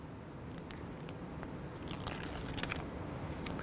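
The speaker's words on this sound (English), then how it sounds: "So you peel the adhesive off first." Adhesive backing peeling off a Jeep Wrangler JK replacement top seal gives a quiet, crackly ripping texture with a few sharp ticks, growing slightly busier toward the end, close and alone without talk.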